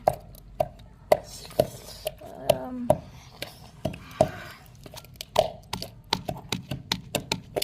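Food being chopped with a knife in a home kitchen: a close series of sharp, crisp blade strikes on a cutting board, falling in an uneven but steady rhythm across the whole stretch.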